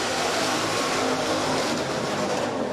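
USRA hobby stock race cars roar around Rapid Speedway on a dirt oval, a loud continuous wash of engines blending into one dense, steady drone.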